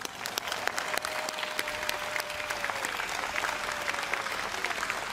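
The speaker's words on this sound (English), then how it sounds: "Let's give them a big round of applause." Steady applause from a large audience at a presidential inauguration ceremony in Taiwan, dense continuous clapping held at an even level throughout, with a faint voice sustaining a tone beneath the crowd.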